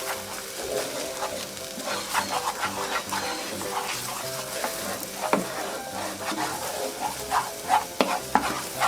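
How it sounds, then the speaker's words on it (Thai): Eggs are broken up and scrambled in a hot pan like fried rice, for a quick keto egg dish, with steady close sizzling and repeated scraping, stirring strokes throughout. "ขยี้ไข่ให้แตกเหมือนข้าวผัดเลยนะคะ"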